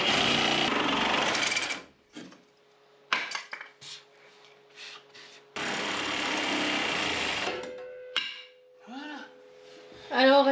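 An improvised blade, made while building a wood stove from truck wheel rims, cuts through metal with loud harsh grinding bursts that stop and restart across the stretch. Quieter pauses in between carry clinks and a faint hum.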